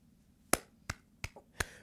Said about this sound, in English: Stop clapping in the microphone.